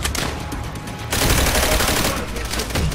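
Machine guns rattle in Call of Duty: World at War during a push on an enemy mortar position. Dense, loud automatic bursts run steadily throughout, intensifying partway through, with no talk.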